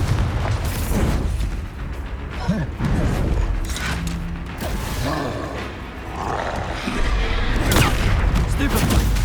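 Confringo blasting spells cast in the video game Hogwarts Legacy, a series of loud booms and crashing impacts with roaring rumble over busy action, and a voice at times.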